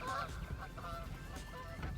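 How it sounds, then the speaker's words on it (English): Geese honk on a lake at early morning, several nasal calls in a loose rhythm at moderate distance over steady wind and water noise. "We see geese."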